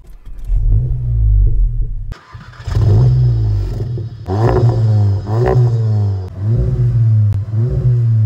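A Seat Leon Cupra tuned to 360 horsepower cranks and fires, then its engine revs in several loud, close blips separated by brief settling back to idle.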